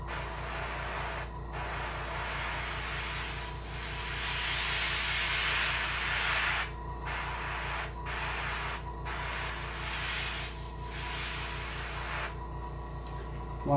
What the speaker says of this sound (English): you want to angle spray and bring out some of those fins